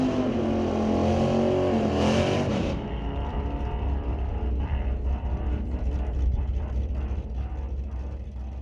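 A drag racing car makes its run at Mission Raceway during an NHRA Northwest National Open Series race, its engine roaring loudly with a falling tone before settling into a steady, rough drone as it passes through the trap at 105 mph.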